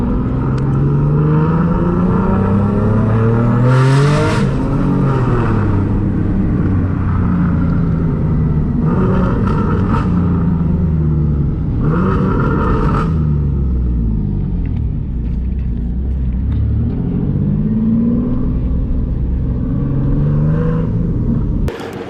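Boosted Nissan 370Z running on E85 during a short acceleration pull, its engine note rising loud and close, easing off, then climbing again in repeated sweeps, with a sustained rumble underneath.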